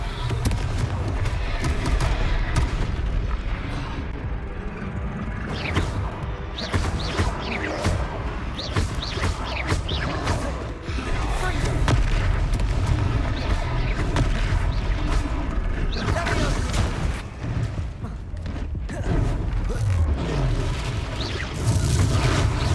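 Confringo fire spells blast repeatedly during a Hogwarts Legacy battle, a dense, loud run of booms and crackling impacts carrying on throughout with no pause.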